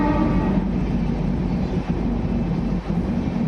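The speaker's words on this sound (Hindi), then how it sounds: "आप देख सकते हो सामने से ट्रेन निकल रही है फुलेरा को स्किप करते हुए" Sealdah Ajmer Superfast 12987 rushes nonstop through Phulera station, giving a steady, close rolling rumble of wheels and carriages that runs unbroken for a few seconds.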